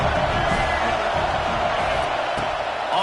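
Dense stadium crowd roar at a football game with the home team pinned deep in its own end, a steady broadband wash of cheering sustained throughout with no break, a commentator's voice faintly mixed in.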